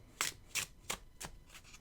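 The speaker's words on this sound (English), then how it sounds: "my ritual is to put the card in the middle and then to kind of like mix it up from there" A deck of cards is shuffled by hand in four or five quick, soft riffling bursts, evenly spaced and quiet.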